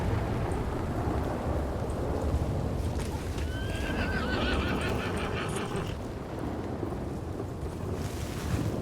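A horse in the RedM game whinnies loudly and close, amid steady clip-clopping hooves and gusty wind-like background noise.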